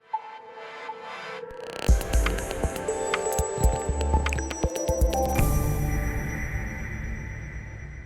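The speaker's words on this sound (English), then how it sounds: "meanwhile I am browning 2 pounds of ground beef" Two pounds of ground beef browning in a pan, with wet squishing, scraping and clattering as the meat is moved around. Steady and fairly close, with no voices.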